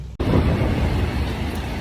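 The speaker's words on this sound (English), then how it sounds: "so it's pouring down rain" Heavy rain pouring down outdoors, a loud, steady, dense wash of noise that begins abruptly after a brief moment and continues without letup.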